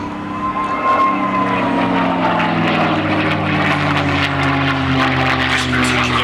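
Propeller drone of a P-51D Mustang fighter flying at an outdoor air festival, a loud, steady piston-engine roar with a slowly shifting pitch throughout.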